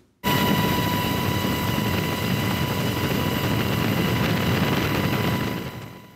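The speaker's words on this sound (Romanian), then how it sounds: "Elicopterul Black Hawk a survolat de 10 de ori Parcul Național Porțile de Fier" A Black Hawk helicopter flying over a forest fire in Iron Gates National Park, Romania: steady, loud, close rotor drone with an even whine that starts abruptly and holds at constant strength before easing off near the end.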